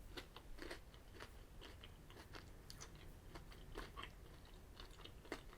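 Crunchy, crackling bites and chewing of an M&M's Crunchy Caramel chocolate bar with caramel crunch pieces, close and steady, repeated irregular crunches over about five seconds with no talking.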